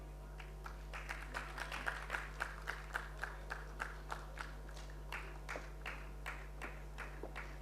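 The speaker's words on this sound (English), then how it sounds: "A huge round of applause for our students, please." Scattered, steady rhythmic clapping for graduating students at a college convocation ceremony, faint and somewhat distant over a constant electrical hum, with no voices.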